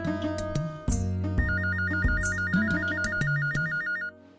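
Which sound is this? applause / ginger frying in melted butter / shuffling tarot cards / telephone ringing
telephone ringing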